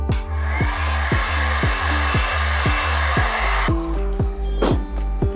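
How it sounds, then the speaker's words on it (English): A heat gun warms a silicone mold for a homemade peony-shaped candle: a steady, loud blowing whoosh under a regular pulsing low thud, and the airflow stops abruptly partway through, leaving a brief clatter. "Now we are going to heat our mold using a hot gun."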